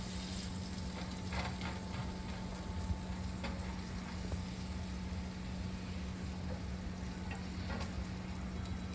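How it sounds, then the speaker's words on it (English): Onions and garlic sauté in a pan for rasta pasta, giving a soft, continuous low sizzle with a few faint stirring clicks and a steady background hum. "And the onions for now. And let's saute this a little bit."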